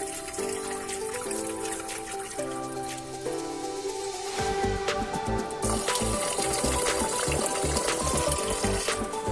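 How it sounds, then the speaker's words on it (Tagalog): Water is poured slowly out of a pot of washed rice into a sink, a steady splashing trickle that grows louder and fuller partway through, with faint clinks and music playing underneath. "Dahan-dahan natin itapon ang tubig para hindi matapon ang bigas."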